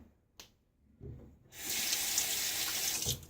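Water from a sink tap runs steadily for a quick rinse of a safety razor, a close, loud splashing stream that starts after a few small clicks and knocks and continues to the end.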